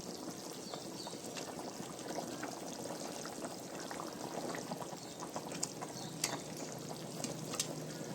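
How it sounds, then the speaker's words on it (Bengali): Fish pieces go into a simmering taro curry in a pot, giving soft, low-level bubbling and gentle sizzling with faint splashes, quiet and close with no talk. "তাহলে এবার আমি মাছগুলো দিয়ে দিচ্ছি"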